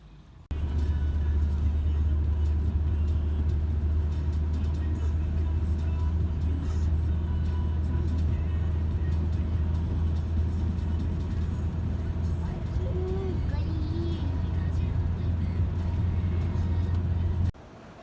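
Steady car engine and road rumble from inside a moving vehicle, continuous and fairly loud for the whole stretch, with a faint brief voice near the end.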